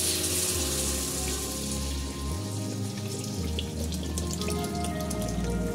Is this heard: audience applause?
no